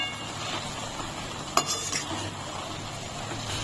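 Mihidana boondi simmer and sizzle in a pan while being stirred, a steady close frying hiss with a couple of brief clinks of a spoon against the metal.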